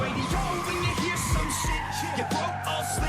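A modified 1000 hp 2012 Nissan GTR R35 Black Edition in Liberty Walk trim brakes hard, its tires squealing and skidding loudly and steadily over a few seconds, close by with engine noise underneath.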